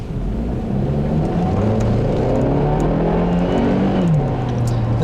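A 2009 Acura RDX with super handling all-wheel drive and a 5-speed automatic accelerates hard around a corner, its engine droning and rising in pitch through gear changes, steady and close.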